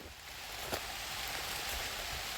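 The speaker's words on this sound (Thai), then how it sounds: "ฝนตกพี่น้องเอ้ย" Rain falls steadily in a forest during mushroom foraging, a constant soft wash of drops with no other sounds standing out.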